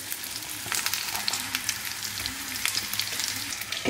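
Stuffed bell peppers (shimla mirch) sizzle and fry in a hot pan, giving a steady crackling hiss with scattered pops close by and no talking.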